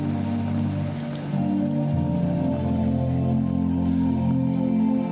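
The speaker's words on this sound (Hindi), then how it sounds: "फिर बारिश का सामना करना पड़ रहा है।" Rain falls steadily during an outdoor church service, a continuous close hiss of drops on surfaces under a low droning hum, with no one talking.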